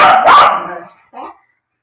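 Two dogs bark loudly and close by indoors, giving a sharp burst of barking followed by a shorter, quieter yip, with nothing else heard.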